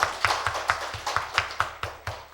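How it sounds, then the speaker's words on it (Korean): A church congregation claps in unison, a brisk, steady beat of sharp claps about four per second, loud and even, with no talking over it. "박수!"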